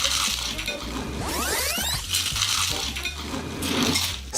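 Hot oil sizzles and crackles steadily as a snack deep-fries, with a few clinks and stirring sounds from utensils nearby.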